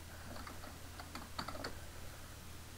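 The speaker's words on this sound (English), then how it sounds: "in the search box, I'm going to type Disk Cleanup" Quick, light keystrokes on a computer keyboard while entering a search on a Windows 8 PC, a short run of soft clicks over a steady low hum.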